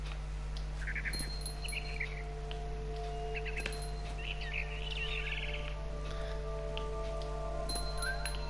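A barn swallow near its nest chirps in short, faint bursts over a steady hum and background noise, with no voices.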